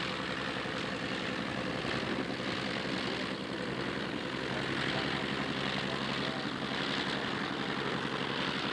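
A de Havilland DH-89B Dominie 1930s biplane airliner, operated by the Croydon Aircraft Company, flies at the 1992 Warbirds Over Wanaka airshow in New Zealand, giving a steady, broad propeller-engine drone that holds at a moderate distance throughout.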